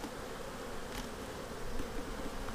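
Honey bees buzz steadily and closely around an open hive during an inspection, a dense continuous drone with a few louder passes near the microphone.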